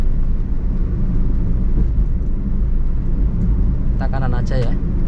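A Toyota Calya car cruising in fourth gear on a public road gives off a steady, loud low engine and road rumble, with a brief higher whine near the end.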